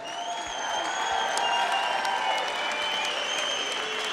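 A crowd at a mixed martial arts event applauds and cheers for two fighters after a bout, giving a loud, sustained wash of clapping with whistles and shouts throughout.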